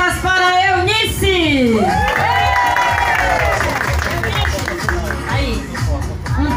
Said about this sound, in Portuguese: Um passo à frente, palmas para Eunice